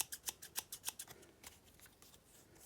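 Scissors snip open and shut in a quick run of sharp, quiet metallic clicks that slow and grow fainter as the blades start to catch.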